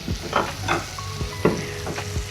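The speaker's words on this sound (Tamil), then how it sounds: "கடாயில் எண்ணெய் விட்டு எண்ணெய் நல்லா காஞ்சதுக்கப்புறம் கட் பண்ணி வச்சிருந்த பாகற்காயை சேர்த்துட்டாங்க" Pieces of cut bitter gourd fry in hot oil in a kadai. A close, crackling sizzle is broken by several sharp stirring scrapes and clinks at an uneven rhythm, with no voices.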